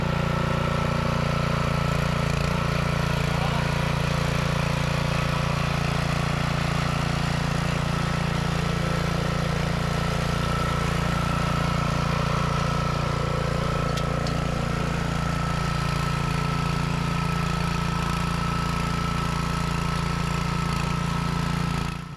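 A Predator 212cc horizontal shaft engine fitted to a 17-year-old tiller runs steadily at one-third throttle, a continuous close, loud low mechanical drone with no break and no voices.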